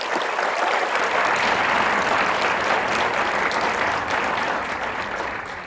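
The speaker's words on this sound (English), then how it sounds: "Just give them a round of applause" A high school auditorium audience gives a round of applause for the lighting, sound and stage crew, sustained, full clapping from many hands that tapers slightly near the end.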